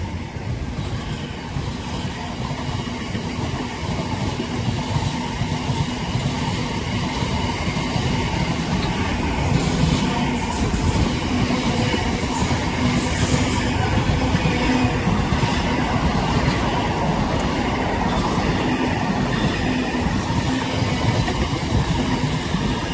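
Freight train 66748, a Felixstowe to Trafford Park service, rolls past on the Trent Valley Line, a loud, sustained rumble with rhythmic wheel clatter and faint squeals throughout.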